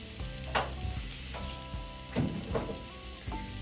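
Garlic cooks in a pan while the air fryer meal is prepared, giving a steady low sizzle broken by a few louder clatters as it is stirred, with background music underneath and no talking.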